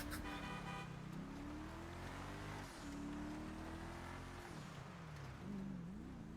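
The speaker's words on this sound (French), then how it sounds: "Je peux klaxonner là." A car horn in a video game blares in long sustained honks over a loud engine drone, the pitch bending slightly between blasts.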